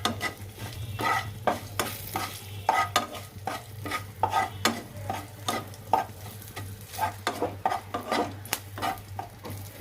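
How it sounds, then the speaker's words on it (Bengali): Salt, turmeric and a little sugar sizzling in hot oil while a spoon stirs them, a steady frying hiss broken by repeated close scrapes and taps against the pan, with a low hum underneath. "নুন, হলুদ, অল্প একটু চিনি তেলের ওপরে দিয়ে দিলাম।"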